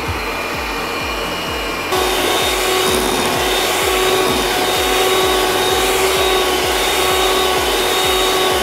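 An electric hand mixer on its turbo setting beating stiff cake batter, a loud steady motor whir with rhythmic beater chatter that jumps louder partway through.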